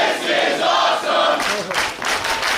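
Around 300 fans at a live wrestling event cheer and yell together, a sustained loud crowd roar that swells with rhythmic bursts in the second half.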